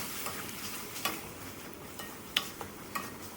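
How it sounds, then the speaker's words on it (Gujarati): Sautéed greens with crushed garlic stirred in a pan, a faint steady sizzle broken by light spoon taps and scrapes. "આ રીતે ભાજીને સરખી રીતે હલાવી અને જે વાટેલું લસણ હતું એને ઉમેરી દઈએ"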